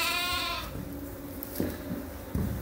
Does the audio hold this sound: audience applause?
no